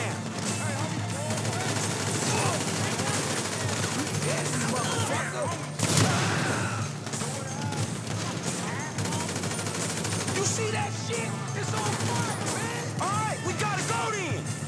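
Gunfire in GTA V during a fight with a local mafia, dense overlapping shots and bursts with crashes and impacts filling the scene, while people talk over the din throughout.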